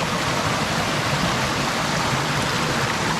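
A jungle stream near a hidden waterfall in Thailand rushes as a loud, steady wash of running water, continuous and close, with no voices.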